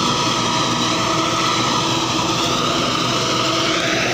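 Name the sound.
Mahindra Arjun 655 tractor driving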